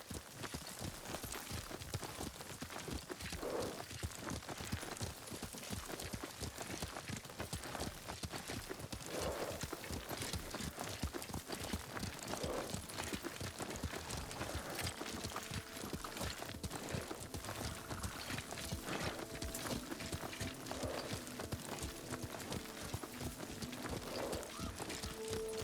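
Horse hooves clopping steadily while riding in Ghost of Tsushima, a dense run of rapid hoof strikes through the whole stretch over ambient game sound, with occasional faint voices.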